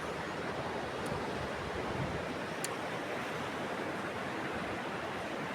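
Steady ocean surf rolls onto the beach at Tibau do Norte, Brazil, a continuous broad wash of breaking waves with light wind, even and unbroken throughout, with no voices.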